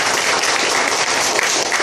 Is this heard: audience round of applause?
yes